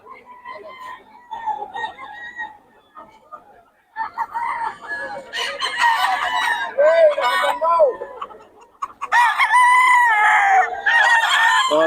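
Chickens and roosters brought by sellers to a market crow and cluck loudly and nearly continuously, with several birds overlapping close by and voices talking among them.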